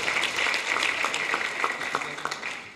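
Audience applause for speakers at an international academic conference, a continuous patter of clapping from a seated crowd at moderate level with individual claps standing out.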